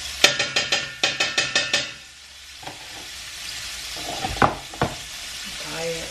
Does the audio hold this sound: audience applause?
no